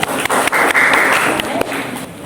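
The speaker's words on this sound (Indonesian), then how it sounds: "Tepuk tangan buat teman kalian." Brief burst of clapping as a class of students applauds classmates after a school practicum presentation, a dense rattle of many hands, with a voice speaking over it.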